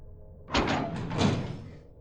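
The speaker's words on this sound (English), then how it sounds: "I heard the bathroom door swing open" A bathroom door swinging open as a sound effect: a quiet start, then a sudden loud thump, a creaking rattle and a second knock that fades out, with no talk.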